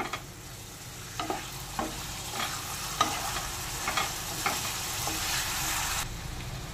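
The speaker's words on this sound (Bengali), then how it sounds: "আর মশলাটাও একটু নেড়ে কষে নেব।" Spiced masala and potatoes frying in a pan for a parshe fish curry, with a steady broad sizzle and repeated clinks and scrapes of a spoon stirring at a loose, uneven rhythm, close and alone.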